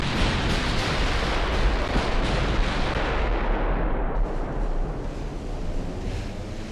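Naval guns fire in the Ultimate Admiral: Dreadnoughts game, a dense, loud, continuous roar of broadband blasts and rumble that slowly eases toward the end, with no talk.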